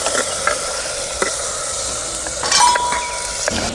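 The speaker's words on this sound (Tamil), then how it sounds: "நல்லா பச்சை வாசம் போக வணங்கட்டு." Tomatoes with turmeric, asafoetida and salt sautéing in a pan for a village greens curry, a steady sizzle with a few clinks and stirring bumps of a spoon against the pan.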